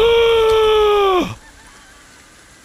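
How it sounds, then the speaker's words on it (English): A loud, harmonic honking or squawking fowl call from chicken sounds in a video game, holding for about a second before cutting off sharply, followed by quiet background. "Look at all those chickens."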